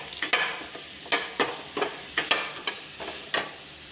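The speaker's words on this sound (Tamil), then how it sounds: "எல்லாத்தையும் சேர்த்துட்டு நல்லா ஒரு 2-3 நிமிஷம் நல்லா வதக்கிடுங்க." Sautéing in a pan with turmeric powder and salt, with repeated scraping, stirring strokes over a light steady sizzle, close and fairly quiet, with no voices.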